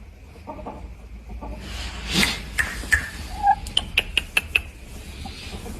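Young six-month-old Japanese shamo rooster, about 3.6 kilograms, giving a run of sharp close clucks in quick succession after a softer low murmur, with no talking.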